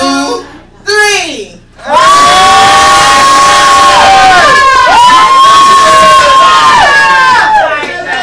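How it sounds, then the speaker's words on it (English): After a few brief shouts, a loud crowd erupts into sustained cheering and screaming, with voices whooping over the roar. "When I count to three, I want y'all to make some noise"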